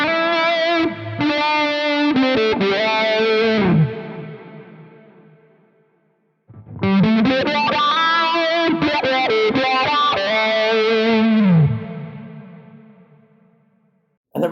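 Electric guitar through the envelope filter of a Quad Cortex, two loud phrases of picked notes with a swept, quacking tone and trailing echo, each decaying away, separated by a short pause, no voices.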